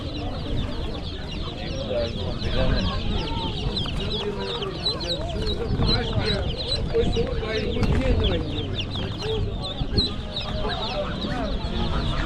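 Chickens cluck and a rooster calls amid a dense crowd of fowl at a weekly bird market in Kuchesfahan near Rasht, Gilan, northern Iran, with steady overlapping bird calls and people talking throughout.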